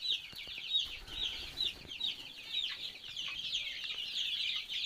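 Chickens on a poultry farm cluck continuously in a quiet, overlapping chorus, with soft repeated calls and no voices.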